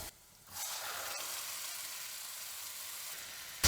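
Mustard seeds splutter in hot oil as ground coconut chutney is poured into the pan. A short quiet gap gives way to a sudden loud, steady hissing sizzle that carries on evenly, with one sharp pop partway through.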